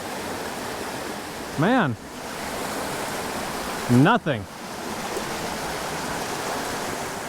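Water flows steadily in a creek, a continuous close rushing hiss that holds at an even level, with someone speaking briefly twice over it.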